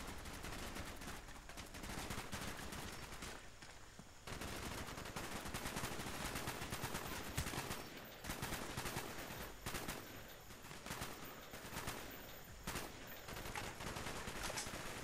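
Sustained AK-47 fire in Call of Duty: Black Ops, dense rapid automatic bursts, loud and close, running almost continuously with only brief gaps.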